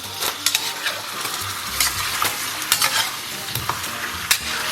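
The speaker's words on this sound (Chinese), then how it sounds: "接下来咱们把这个肉给它放到锅里边，然后稍微来点色拉油。 然后咱们小火给它煸炒一下" Pork belly sizzles in a wok with a little salad oil over low heat, a steady crackling fry broken by repeated scraping strokes of a spatula stirring the meat.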